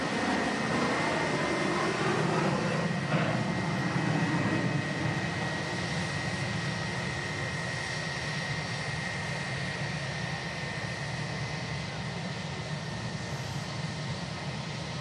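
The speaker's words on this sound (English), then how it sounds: "Emirates A380 on the way out as a Scandinavian CRJ departs for Copenhagen in the background" An Emirates A380 heads out at Manchester Airport while a Scandinavian CRJ jet departs for Copenhagen, a loud, continuous roar of jet engines that stays steady and fills the whole stretch without talk.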